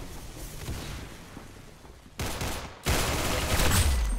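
Gunfire in the shooting video game Arsenal: bursts of rapid shots that grow sharply louder in two steps, carried over steady background game noise.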